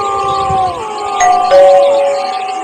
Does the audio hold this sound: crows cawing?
no